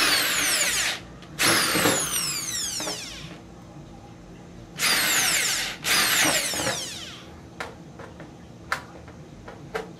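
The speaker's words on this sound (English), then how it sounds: "Put the drill bit into the hole." Power drill boring holes during a PC case build, two pairs of loud, high whining bursts with falling pitch sweeps, each lasting about a second, followed by several sharp clicks and knocks.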